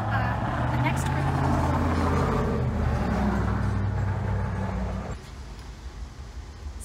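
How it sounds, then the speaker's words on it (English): Steady road traffic rumbling nearby, with vehicles passing in a continuous low roar that eases slightly toward the end. "it's a little bit loud around here. There's some traffic"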